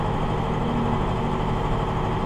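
A farm tractor used for planting soybeans with a seed drill idles in a steady, unbroken low rumble, close and alone with no voices.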